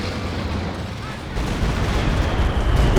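A walking artillery barrage in Company of Heroes 2 rumbles as a dense, loud wash of overlapping explosions that swells about halfway through, with a voice faintly present underneath.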